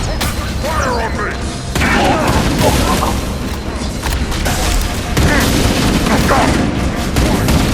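Heavy gunfire and booming explosions fill a battle in the Halo: Campaign Evolved shooter game. Rapid bursts and volleys come in loud waves, with shouted voices faintly mixed in.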